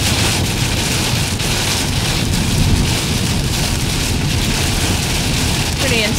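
Heavy rain pounds a car while driving toward Alabama during a thunderstorm, a dense, constant roar of drops hammering the roof and windshield that stays loud and unbroken throughout.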